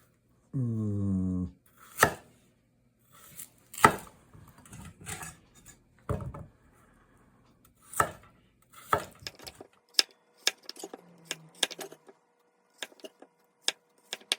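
A knife cuts taro into a turtle-shell kikkogiri shape in a soba chef's kitchen, with sharp, separate chops against a board, spaced apart at first and then coming in quicker, lighter taps. A short tonal sound is heard at the start.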